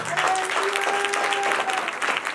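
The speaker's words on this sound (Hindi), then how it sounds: "तालियां बजा दे" A church congregation claps together during a sermon, a brief burst of dense, steady applause that fills the space evenly, with a faint sustained tone running beneath it.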